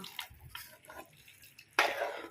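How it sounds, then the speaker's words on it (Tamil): Water is poured into simmering chicken liver gravy in a pan. A short, close splash and gush arrives near the end, after quieter kitchen clatter. "நான் வந்து தண்ணி கொஞ்சம் ஆட் பண்ணிக்கிறேன்"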